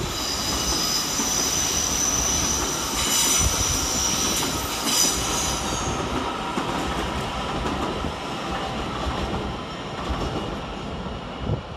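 A pair of coupled Great Western Railway class 802 trains, units 802 004 and 802 007, departs London Paddington for Plymouth with a loud continuous rumble and high wheel squeal that fades partway through.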